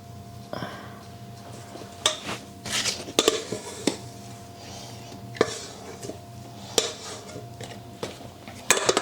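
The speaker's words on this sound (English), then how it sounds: "just gonna scrape it out of this bowl" Homemade whole wheat pizza dough is scraped out of a bowl with a utensil: soft scuffs and squishes broken by several sharp clinks and knocks against the bowl, close and fairly quiet.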